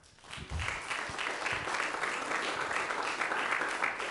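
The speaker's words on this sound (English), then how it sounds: "I think one more round of applause" A church congregation at a youth mission service breaks into a full round of applause that starts after a half-second lull and holds steady and dense, many hands clapping together close by.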